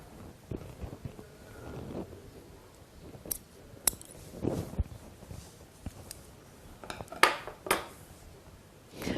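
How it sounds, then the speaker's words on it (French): Scissors snip ribbon to length while trimming decorations on summer shoes, giving a series of short, sharp, close cuts with soft handling rustles between them. "Et je recoupe ce qui est trop long. Alors je peux aussi couper dans l'autre sens."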